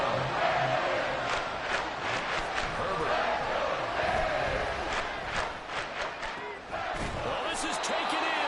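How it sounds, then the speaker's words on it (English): A stadium crowd in an EA Sports football video game roars steadily beneath a play-by-play commentator's voice, with surges of cheering and scattered sharp thuds. "This crowd turning up the decibel level."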